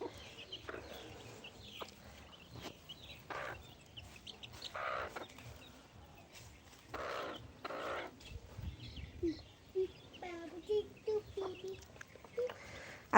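Backyard chickens clucking during cold winter weather, a few soft intermittent clucks and calls scattered through quiet outdoor ambience, with faint background voices.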